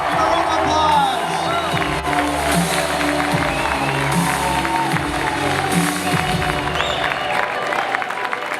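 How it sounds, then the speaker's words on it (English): A fan convention crowd applauds and cheers for a celebrity guest on a panel stage, sustained clapping with whoops and shouts, while an amplified voice speaks over it. "Everybody, Kate Beckinsale! A round of applause."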